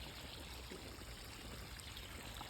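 Water from a switched-on sprinkler falls onto plants and soil, a quiet, continuous patter and trickle heard steadily and alone.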